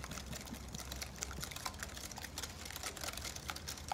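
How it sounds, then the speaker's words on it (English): A whisk beating sugar and cream together for a spicy pumpkin pie filling, a steady rapid scraping and clicking against the bowl that runs continuously and fairly softly, with no talk. "Whisk, whisk, whisk."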